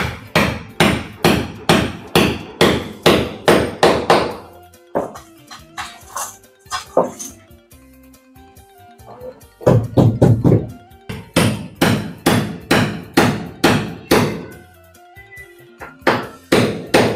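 Steady series of sharp hammer blows driving nails into wooden boards while building a wooden boat, loud and close, rhythmic bursts broken by a quieter pause midway before the hammering resumes.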